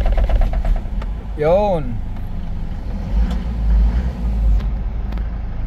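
An Isuzu Travis with a 4JA1 diesel engine shows a hard start: a rumbling crank and low diesel rumble under someone speaking, with a brief rising-falling whine in between.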